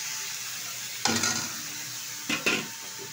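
Washed mourala fish going into a pan of panch phoron spice masala, a low steady sizzle punctuated by two sharp bursts of loud frying and utensil scrapes, no voices.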